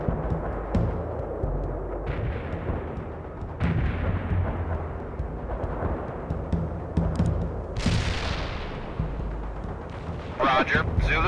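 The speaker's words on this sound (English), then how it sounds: "Zulu 9 are firing mortars at the target coordinates." Mortar rounds in World in Conflict thud and boom in heavy, rumbling bursts amid ongoing battle noise, with a sharp blast near the end, while radio voices talk over it.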